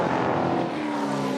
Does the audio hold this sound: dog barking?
no